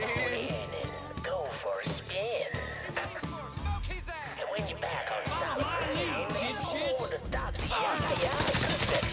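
Gunfire in Mafia III bursts out in a dense, chaotic exchange, shots cracking in quick clusters over a busy game soundtrack while someone speaks tensely throughout.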